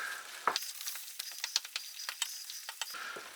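Cottage pie mince frying in a pan with a dash of Worcester sauce: a soft sizzle underneath a string of sharp spoon clicks and scrapes against the pan as it is stirred, close and fairly quiet.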